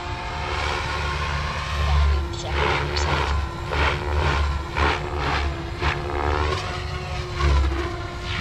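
An RC helicopter flies at high head speed, its rotor and motor producing a steady, close whirring drone with a harmonic whine that swells and eases slightly throughout.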